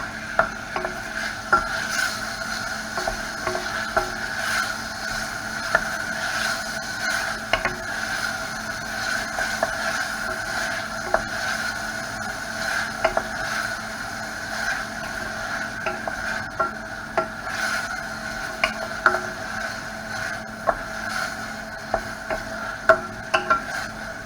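Bacon being stirred constantly in a pan on the hob for a quiche, a soft ongoing sizzle broken by repeated scraping clicks of the utensil against the pan, steady and close, no talking.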